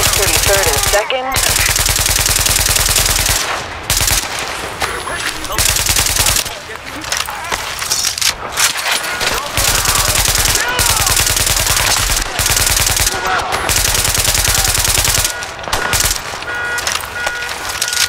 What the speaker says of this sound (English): Nice shooting there.